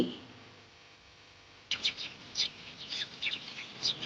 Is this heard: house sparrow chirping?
yes